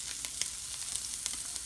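Bacon sizzling in a pan for an omelette, a short burst of steady hiss and crackle with several bright spitting pops, close and alone without speech.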